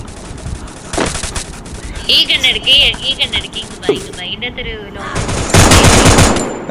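Rapid automatic gunfire from the Free Fire mobile game comes in dense bursts, loud and close, with voices talking over and between the shots.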